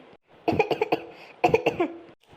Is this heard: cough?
yes